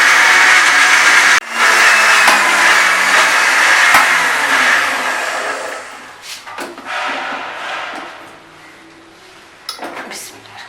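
Electric blender machine grinding chicken roll chutney with a little water, a loud steady whir for over a second that sputters and fades, then short bursts and rattles as the motor stops and restarts.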